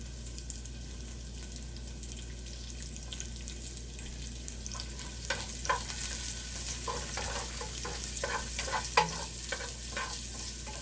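Onion sautés in hot oil: a low steady sizzle under a constant background hum, with scrapes and clinks of a spatula stirring in the pan in the second half, no voices.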